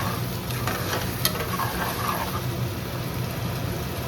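Onions fried until lightly reddish, with ginger-garlic paste just added, hiss in a steady close sizzle with faint stirring scrapes and one sharp clink, for a chicken dish; nobody speaks.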